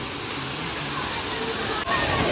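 A small waterfall with only a light flow after the early monsoon, a steady rushing, splashing roar close by that fills the whole clip, with a brief dip near the end.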